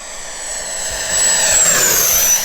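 A HobbyKing Sports Hawk 105mm electric ducted-fan RC jet swooshes past, its high turbine-like whine swelling louder and dropping in pitch as it passes close by outdoors.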